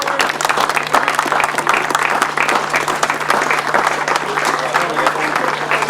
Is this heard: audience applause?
yes